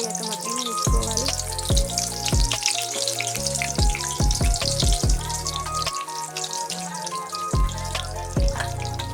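Masala-coated soya chunks deep fry in hot oil over a medium flame, a loud continuous bubbling sizzle with crackles and pops throughout, along with a steady tonal hum.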